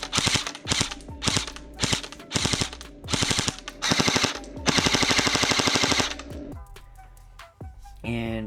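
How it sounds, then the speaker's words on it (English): Lancer Tactical LT-15 Gen 2 airsoft rifle firing full auto at around 15 rounds per second, loud close bursts of rapid mechanical clacking separated by short pauses, ending in one long burst and a few stray clicks. "It has a full auto rate of fire around 15 rounds per second"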